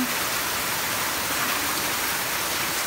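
Harvested rainwater poured into a large vessel, a steady loud rushing splash that stays constant throughout, close by and with no talk.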